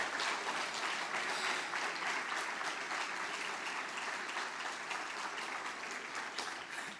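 A church congregation applauds steadily, a thick, even roar of many hands clapping that holds at a constant level for several seconds with no voices on top.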